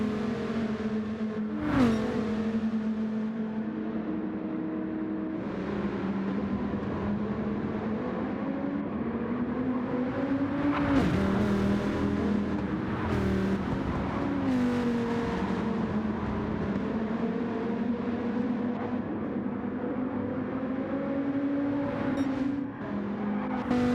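Race cars in a racing video game on the Willow Springs track drone along steadily with engine revs that rise and fall, and occasional louder surges come through as cars pass.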